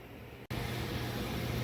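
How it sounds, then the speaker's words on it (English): A small electric fan runs steadily in a garage workspace, a close, continuous airy whir with a low hum that cuts out for an instant and then returns at full strength. "I had to turn on my little fan down there."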